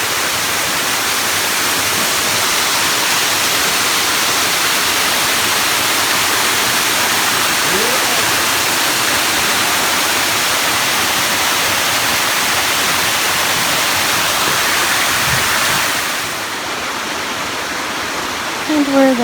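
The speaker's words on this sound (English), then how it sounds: "where that little creek runs out into this creek" Creek water rushing in Pine Creek Gorge, a dense, steady roar of flowing water that stays loud and constant for nearly twenty seconds, easing slightly near the end.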